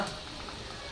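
Potato puris sizzle in hot oil, a brief, steady crackling fry heard up close and alone.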